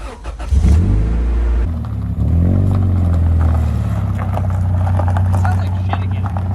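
A Honda Integra DB1 engine revving on a test drive, heard from inside the car as a steady mid-pitched drone that climbs, dips at a gear change and pulls again, with a voice talking over it.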